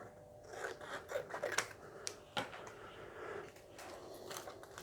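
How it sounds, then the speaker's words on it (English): Scissors cut through a small piece of water slide decal paper, making a quick series of close, crisp snips and rustles. The cutting comes in short irregular bursts over a quiet background. "I'm just going to cut out one of my little bits of water slide paper"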